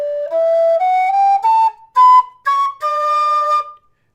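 A low D whistle plays a rising run of clean, sustained notes up into its second octave, each pitch held briefly with small gaps between, loud and close with no voices.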